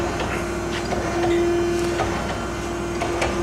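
An Okamoto PSG124 ACC 12-24DX surface grinder runs with its hydraulics and spindle on, giving a steady close mechanical hum with a sustained whine and a broad wash of machine noise, no voices.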